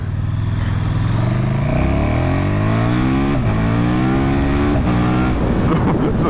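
A 2019 KTM 1290 Super Duke R motorcycle accelerates hard, its loud engine roar climbing steadily in pitch through several gear shifts, heard close with heavy wind noise.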